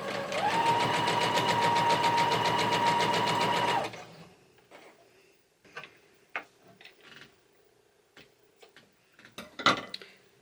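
A sewing machine runs steadily with a piecing foot, stitching a patriotic pineapple quilt block, a fast even mechanical whir for about four seconds before stopping, followed by faint handling clicks and taps.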